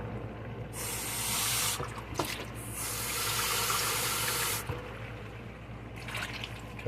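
Tap water runs hard into a pot holding seasoned potatoes and a chuck steak roast, a steady loud rush that drops off briefly partway, then resumes before cutting out and restarting near the end.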